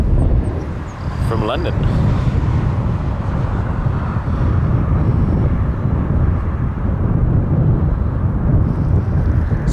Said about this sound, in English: Okay, incoming. Our Dreamliner